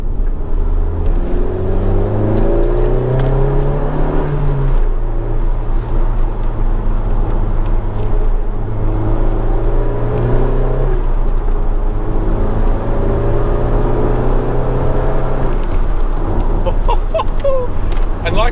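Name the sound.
Honda Civic Type R car driving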